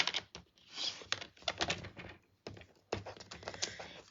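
Cardstock is trimmed a quarter inch on a paper cutter for a handmade card, a series of quiet close scraping and clicking strokes with short pauses between them.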